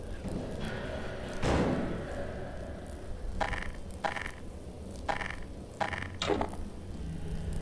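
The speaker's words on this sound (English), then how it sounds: "those barrels didn't just drop down for the good of my own health" Barrels drop with heavy thuds in Half-Life 2: one loud, deep impact followed by a run of lighter knocks and clunks, close and without talk.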